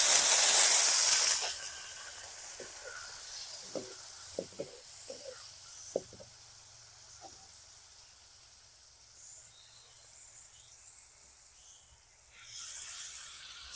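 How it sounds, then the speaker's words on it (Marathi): Chicken dropped into a hot kadhai of masala, salt and turmeric with mutton on a village wood-fired stove, giving a loud initial sizzle and hiss that settles into a steady quieter frying crackle with scattered pops, rising again near the end. "मसाला, मीठ, हळद टाकलं मित्रांनो. आता चिकन टाकून घेऊ आपण."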